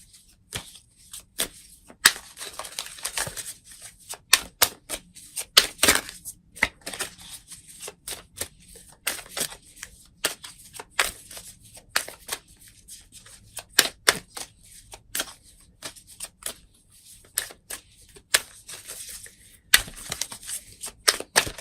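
Tarot-style oracle cards from the Denise Linn Sacred Traveler deck being shuffled by hand, a long run of crisp, close riffling snaps and slaps in uneven bursts with short pauses, no talking.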